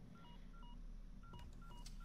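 A phone-like communicator in Resident Evil 4 Remake dialing a quick series of electronic tones, two short bursts of beeps over a steady low game ambience, faint and close.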